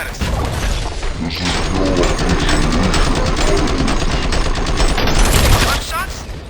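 Gunfire bursts from the RoboCop: Rogue City video game, rapid crackling shots mixed with mechanical clatter and crashes, loud and dense throughout, with a character voice briefly reacting over it.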